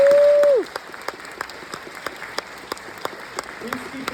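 A theater audience at the River Oaks Theater applauds after an interview with a film director, steady mid-level clapping that follows a brief tone at the start, with a short spoken voice near the end.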